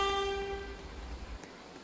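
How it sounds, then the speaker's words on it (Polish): Train pulling into a station in Roblox Train Simulator, a steady horn-like tone sounding at first and fading after about half a second into low rumbling rolling noise that continues to the end. "O, proszę bardzo, wjechał pociąg."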